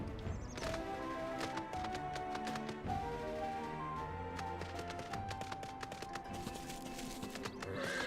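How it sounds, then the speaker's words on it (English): In Final Fantasy XIV, a horse mount trots along with a steady run of hoof clip-clops over game music and ambient effects, moderately loud and continuous. "I have different horse now."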